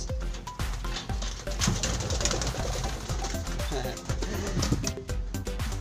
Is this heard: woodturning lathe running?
no